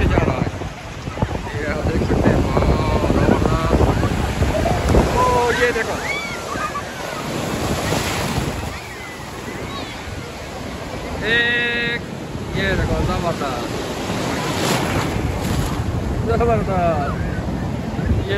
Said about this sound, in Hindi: मैं आपको इन लहरों के बीच में लेके चलता हूँ, जो काफ़ी इंजॉयबल लहरें होती है।